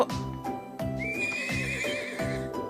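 Horse neighing in the video game Trails of Cold Steel, a wild horse newly arrived from the North Highlands, whinnying loud and close with clip-clopping hooves and a steady melodic tone underneath.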